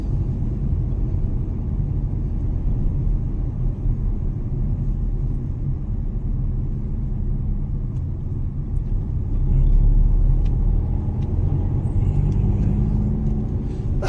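A car driving on a road near Almeria gives a steady, close interior rumble of engine and tyres, a deep continuous drone with no pauses and a slight swell partway through.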